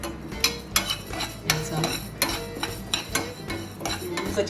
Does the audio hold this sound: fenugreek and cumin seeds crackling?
yes